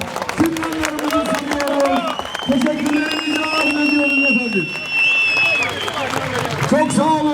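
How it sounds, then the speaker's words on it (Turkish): An audience applauds Orhan Gencebay at a Samsun regional promotion event in Kağıthane, continuous clapping and crowd noise beneath a loud voice and tonal sounds, steady for several seconds. "Orhan babamızı şöyle kuvvetlice bir alkışlayalım"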